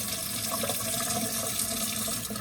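Tap water runs steadily into a kitchen sink being filled for washing dirty dishes, a continuous close splashing hiss with no pauses or talk.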